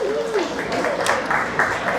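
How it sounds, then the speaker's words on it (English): An audience applauds a volunteer at an astrodynamics talk, a short, steady wash of clapping that runs the whole moment, with voices audible over it. "Let's give a round of applause to our volunteer"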